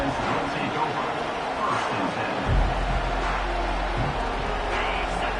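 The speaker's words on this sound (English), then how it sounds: "This crowd trying to make life miserable for this offense." A football stadium crowd at a Texas game roars in a steady, dense wash of noise, with a commentator talking over it throughout.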